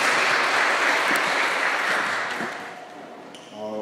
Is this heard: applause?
yes